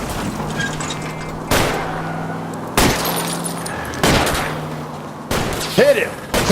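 Gunshots fired at a fleeing car's tires in the video game LA Noire, several loud sharp cracks spaced a second or so apart over a steady car engine drone, with brief tire screeches near the end.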